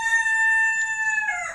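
A pet rooster crows once, a long, loud, clear cock-a-doodle-doo that rises and breaks into a ragged ending, with no other sound around it.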